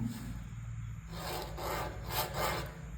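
A marker or chalk rubs along fabric, drawing a slanted line for a churidar armhole, in short close scratchy strokes that grow slightly louder toward the end.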